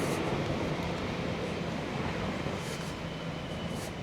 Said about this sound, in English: There's the train across there now.